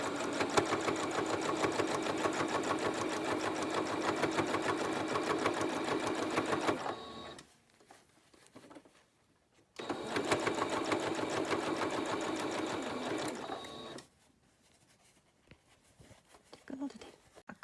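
A sewing machine stitching a fabric filter mask in two long steady bursts of rapid needle chatter, each about seven and four seconds, separated by quiet pauses, close and loud with a few soft handling sounds between runs.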